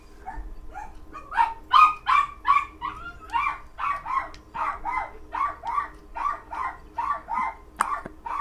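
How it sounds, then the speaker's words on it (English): A dog barks in a steady series of sharp, evenly spaced yaps from fairly close by, with no talking over it. "The dog has been quiet for 2 hours now. And less than a minute in the recording, and he starts barking."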